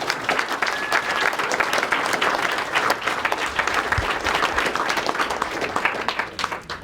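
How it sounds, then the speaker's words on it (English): A crowd at a campaign meet-and-greet in Plaistow, New Hampshire gives a sustained, fairly close round of applause, with dense even clapping and faint crowd murmur lasting several seconds before tapering off at the end. "That's worth a round of applause."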